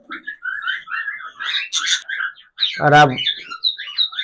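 Pet birds feeding on egg and rice let out a string of short, close, high chirps and tweets, with someone briefly speaking in the middle.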